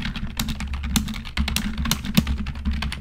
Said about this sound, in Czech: úplně miluji, když takhle drtím tu klávesnici